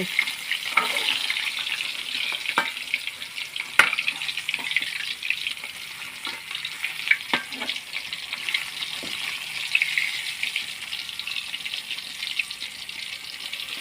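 Salted fish sizzling and frying over a red-hot charcoal stove at home, a steady close crackle with scattered sharp pops and spits throughout.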